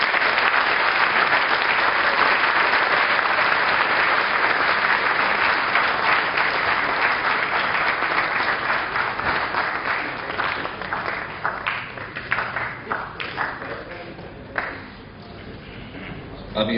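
Audience applause at a brochure launch during a 2016 theatre festival event, loud sustained clapping from a crowd that thins into scattered claps toward the end.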